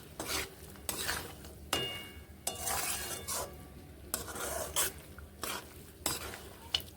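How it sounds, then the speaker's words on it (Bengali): A spoon repeatedly scrapes and stirs a vegetarian cauliflower dish with added salt in a pan, in uneven bursts of clattering strokes with a low sizzle underneath. "নুন মিশিয়ে নেব সবগুলোকে বেশ ভালোভাবে এইভাবে মিশিয়ে নিচ্ছি"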